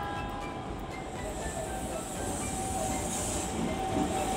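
A Keikyu train, a type 600 unit in front, pulling into Shinagawa station with a steady rumbling roll and a faint high squeal of wheels, continuous and fairly close.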